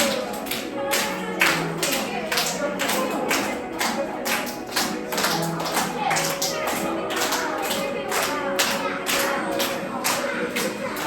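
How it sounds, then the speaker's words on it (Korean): Children at a church Sunday school service clap along in time during a song interlude, a steady rhythmic beat of many hands with a singing voice and music underneath. "자 여기서 간주 박수."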